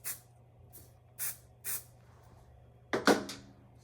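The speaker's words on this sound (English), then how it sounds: "I'm actually going to add a little bit of spray to this" Short bursts of hissing spray from an aerosol can of spray adhesive, several quick blasts spaced apart, then a louder clatter near the end.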